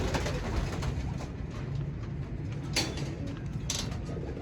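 Soft pigeon coos murmur steadily against a busy outdoor background, with a couple of brief sharp rustles standing out.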